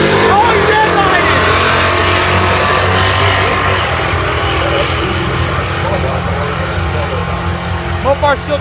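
Drag race cars, a Camaro against a Mopar, launch down a quarter-mile strip with a loud, dense engine roar that fills the whole stretch and eases slightly toward the end, with voices talking over it.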